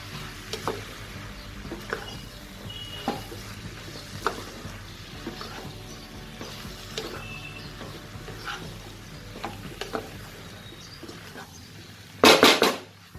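Mixed vegetables with coconut and cumin powder being stirred in a frying pan, a low sizzle under repeated scraping spatula strokes, close by, ending in a short louder burst of clattering near the end, no talking.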